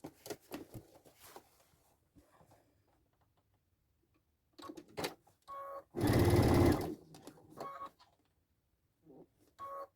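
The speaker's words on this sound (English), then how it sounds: "we're going to sew the opening which we left. I'm going to sew it just really quick." A sewing machine stitches shut the opening of a lined fabric pouch in one loud, steady burst of about a second, with quieter stop-start machine clicks and handling noises before and after it.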